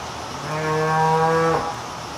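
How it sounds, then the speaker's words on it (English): A cow in a dairy barn gives a single long, loud moo lasting about a second, rising out of quiet barn ambience and then cutting off. "The cows, as they eat, they tend to push the feed away and sort through it"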